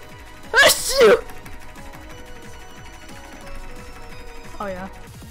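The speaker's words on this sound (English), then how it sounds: "did I gotta sneeze" A person sneezes twice in quick succession, loud and close. A voice cuts in briefly afterward over a faint background of rhythmic ticking.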